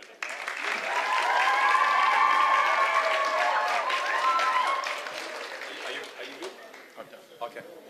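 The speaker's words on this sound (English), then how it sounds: "So a big round of applause for Sue." An audience applauds at a live-streamed Surfers Paradise event, clapping swelling quickly, holding strong for several seconds with cheers mixed in, then thinning to scattered claps and voices.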